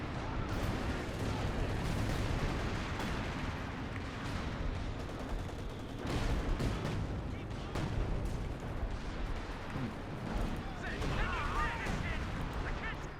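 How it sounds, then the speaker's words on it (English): Artillery barrages and gunfire from a 4v4 Company of Heroes 2 battle on the Hill 400 map, with a continuous dense wash of booms and shots throughout, heard under a caster's steady commentary. "Artillery managed to neutralize all that stuff."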